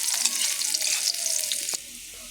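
Garlic and onion hit hot oil in a pan, giving a steady bright crackling sizzle that runs close and loud before suddenly dropping near the end.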